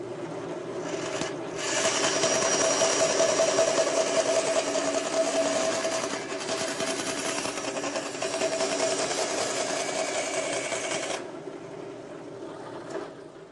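Bandsaw in a machine shop running with a steady whir, its tone thickening into a sustained rasping cut that lasts several seconds before easing back to the motor alone.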